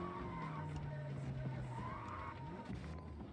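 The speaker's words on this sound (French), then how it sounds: "la voiture, elle s'est arrêtée net dès que j'ai appuyé sur F pour sortir" A car in Cyberpunk 2077 skids hard to an abrupt stop, its tires squealing and sweeping in pitch over a continuous engine drone at steady, fairly close game-audio volume.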